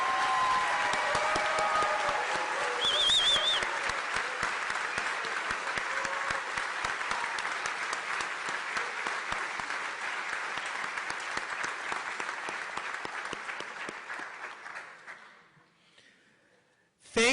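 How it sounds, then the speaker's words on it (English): Sustained applause from an audience at an evening education award ceremony, honouring award recipients; dense, steady clapping runs for about fifteen seconds, then fades out to near silence. "Let's give one more gigantic round of applause to our award recipients"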